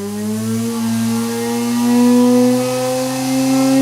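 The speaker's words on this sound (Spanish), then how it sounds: "un motor, el motor es de 12 voltios" A small 12-volt electric motor spins on a bench supply fed by a diode bridge, giving a loud steady whine whose pitch rises slightly as it runs, close and without voices.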